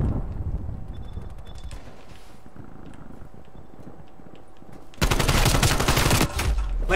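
Rapid burst of video game gunfire erupts loud and dense near the end, after a quieter stretch of low rumbling game ambience.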